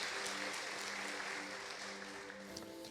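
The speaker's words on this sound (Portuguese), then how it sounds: "Mas se você vai aplaudir, vamos aplaudir com vontade" Congregation applause at an evening prayer service for a blessed family, a continuous wash of many hands clapping enthusiastically at even volume, with no voices on top.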